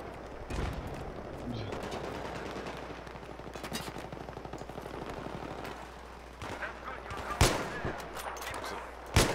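Rapid gunfire in a Battlefield 3 team deathmatch on Damavand Peak, sustained automatic bursts with sharper single shots near the end, loud and continuous over game ambience.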